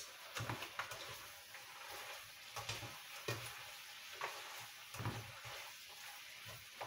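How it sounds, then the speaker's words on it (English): Onions frying alongside chicken in a pan for chicken dopiaza, a soft steady sizzle broken by repeated scraping stirs at an irregular pace, close and fairly quiet, with no talking. "now I'm going to add the onions and we'll let that cook through slowly"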